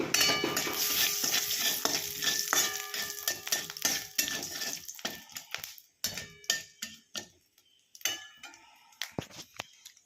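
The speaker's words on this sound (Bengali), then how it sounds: "কালো জিরে ফোড়ন দিয়ে দিলাম শুকনো লঙ্কা ফোড়ন দিয়ে দিলাম" Nigella seeds and dried red chillies tempering in a little hot oil for a fish curry, a crackling fry under quick metallic clinks and scrapes of a spatula against the pan, busy at first and then thinning to scattered taps.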